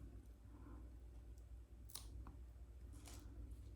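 Clippers trim a fearful feral cat's front nails, making a few sharp, faint clicks about two seconds and three seconds in. The snips are heard close up over a quiet, low background hum.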